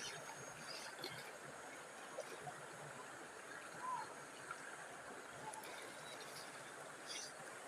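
Water in a river flows with a faint, steady trickling hiss, low and continuous and without clear splashes, heard at a distance.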